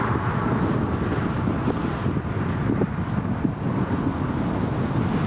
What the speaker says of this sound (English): I'm riding into the wind